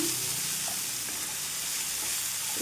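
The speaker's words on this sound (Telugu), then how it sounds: "ఈ విధంగా వేసేసుకొని ఈ మొత్తం మంచిగా పచ్చివాసన లేకుండా ఇది మగ్గించుకోవాలండి" Coriander leaves sautéing in a pan for chutney, giving a steady, dense sizzle and hiss that runs unbroken throughout, close and even with faint stirring touches.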